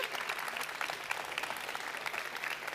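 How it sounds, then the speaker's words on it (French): Steady applause from an audience at a French awards ceremony unveiling prize winners, a dense, even wash of many hands clapping at moderate distance throughout, with no speech over it. "Merci beaucoup, on peut les applaudir."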